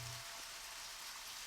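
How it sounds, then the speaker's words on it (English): Steady rain hisses down in the video game Deadly Premonition, a dense, even wash of falling water heard alone at low level throughout. "It's raining."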